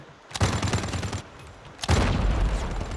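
Two long bursts of rapid automatic gunfire in Call of Duty: Mobile, loud and dense, separated by a short lull, with a low rumble under the shots.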